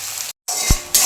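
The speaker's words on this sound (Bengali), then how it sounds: "পেঁয়াজটা নিয়ে একটু ভেজে নেব" Chopped onion frying in a pan for a Bengali mutton-and-fat dish, a steady close sizzle broken by a brief silence, then a single low scraping thump as the onions are stirred.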